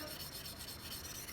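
A blade scrapes steadily back and forth across a sharpening stone, a close, continuous rasping rub with no voices.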